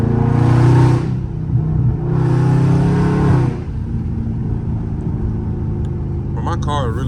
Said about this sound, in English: But my car is really not that loud for real